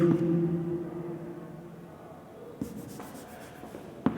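Pen writing on paper while working percentage problems, a soft steady scratching that fades slightly and ends with a couple of light taps.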